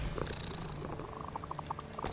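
A house cat purrs close to the microphone, a steady low rumble that runs throughout with faint soft clicks and small movements over it.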